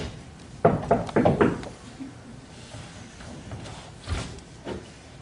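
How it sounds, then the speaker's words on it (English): Knocks on a door in a staging of Macbeth, a quick cluster of four or five raps followed by a lone knock a few seconds later, heard over a low background hiss. "Here's knocking indeed."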